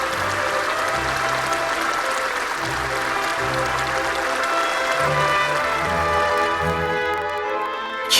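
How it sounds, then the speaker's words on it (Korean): Enthusiastic, sustained applause from a large crowd welcoming two national leaders, a dense steady clapping that continues throughout without pause. "두 나라 최고 수뇌분들을 열광적인 박수로 환영했습니다"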